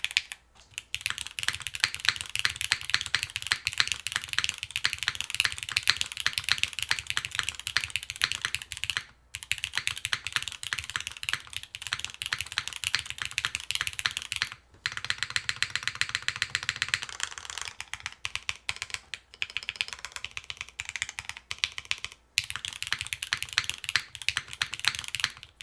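Typing on a mechanical keyboard whose arrow keys feel lively again, with dense, fast clacking keystrokes that run steadily and pause briefly a few times, close and fairly loud.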